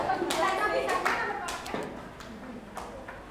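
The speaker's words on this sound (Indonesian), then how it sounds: "Silakan kasih tepuk tangan buat Yani." Students in a classroom giving applause, a short burst of scattered hand claps that fades out, mixed with children's voices talking.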